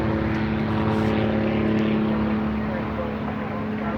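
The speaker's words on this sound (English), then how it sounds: "It's a woman pilot in the yellow airplane." A yellow propeller airplane flown by a woman pilot drones overhead, a steady loud engine hum with a strong tonal whine holding throughout the whole stretch.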